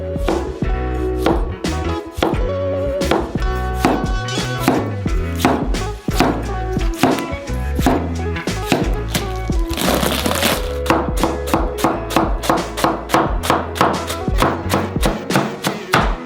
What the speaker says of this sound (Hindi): टमाटर काट लेंगे।